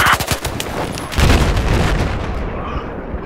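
Machine gun fire in Battlefield 4, a dense loud rattle of rapid shots mixed with heavier booms that keeps going for the whole stretch before fading a little near the end.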